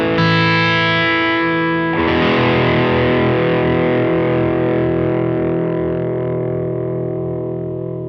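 Distorted electric guitar played straight into an amp with no preamp pedal, a sustained chord ringing out, then a fresh strum about two seconds in that decays slowly, loud and alone with no talking.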